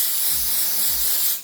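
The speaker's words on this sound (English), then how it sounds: "Let me just spray this fragrance." An Arabiyat Lamsat Harir perfume body mist is sprayed as one continuous, close, loud hiss of fine mist that lasts over a second before cutting off.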